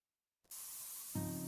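Spray paint hissing from a can in the video game Spray Paint Simulator: a steady, close airy spray that starts after a short silence, joined near the end by a low hum.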